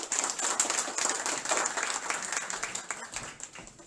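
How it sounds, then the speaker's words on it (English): An audience claps for a guest invited on stage at a meet-and-greet with the Indian ambassador in Eindhoven, a moderate, steady patter of many hands that tapers off slightly toward the end. "Huge round of applause for him."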